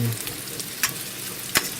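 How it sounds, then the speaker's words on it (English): Steady sizzling of meat frying in a frying pan, a continuous crackle with a couple of sharper clinks or scrapes. "keep them moving around"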